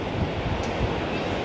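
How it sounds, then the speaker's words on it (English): Strong wind roars steadily across an open coastal lookout on a clifftop hiking track near Sydney, a broad continuous rumble with gusting buffets against the microphone and possible surf beneath, no speech. "Oh gosh, it's so windy right now."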